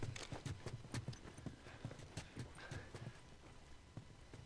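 Horse hooves clip-clopping in the video game The Last of Us, a run of sharp, irregular hoof knocks at close range, fairly faint overall, with no talk over them.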